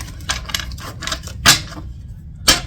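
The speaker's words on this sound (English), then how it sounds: "I'm gonna do one more shuffle here" Tarot cards being shuffled by hand, a few crisp riffling flicks and snaps in quick succession, close and clear with no talking.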